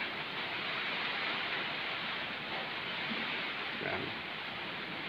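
Steady rain on a stormy early morning with typhoon weather, a constant, even hiss of falling water with no pauses and no voices.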